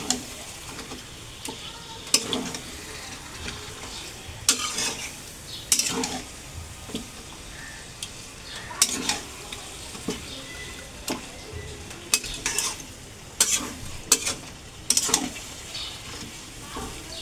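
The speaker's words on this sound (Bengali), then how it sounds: "এবার এটাকে ভালো করে পুরো মশলার সাথে মেশাবো।" Tangra fish tossed with spices in a hot pan gives a low sizzle broken by repeated scrapes and knocks of a spoon against the pan, in uneven bursts every second or two.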